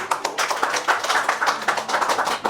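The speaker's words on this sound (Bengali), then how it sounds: "আপু হাততালি কই?" A few people clap for a first-prize winner at an informal giveaway, with quick, uneven claps close by in a short burst.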